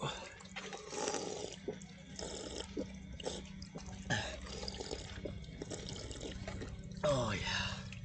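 Water runs and trickles from a public drinking fountain outdoors. A soft, uneven splashing continues close by, with voices talking over it.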